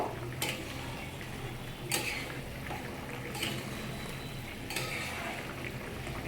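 Fish curry with salt being stirred in a pan, with four scraping clinks of a spoon against the metal spaced about a second and a half apart over a steady simmering bubble.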